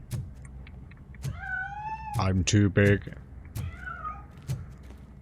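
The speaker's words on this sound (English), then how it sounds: "That cat must be hiding inside." A cat meows repeatedly in the game Robocop: Rogue City, a series of short tonal mews with a deeper caterwaul near the middle, fairly close, with a voice speaking briefly.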